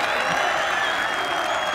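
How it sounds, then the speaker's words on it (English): The Ryder Cup golf crowd bursts into loud, sustained applause and cheering after a putt, a dense wall of clapping and voices with no pauses. "The crowd are going ballistic."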